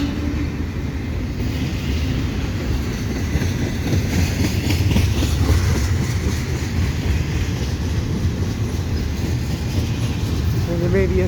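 A CP freight train with three sets of locomotives rolls past at Dorval, a loud continuous rumble and clatter of wheels on rail that holds steady, with faint squeals near the end.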